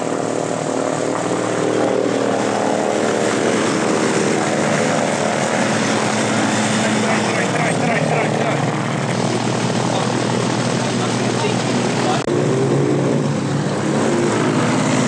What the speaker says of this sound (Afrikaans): Hier kom Paul de Kok nou in petrolstasie toe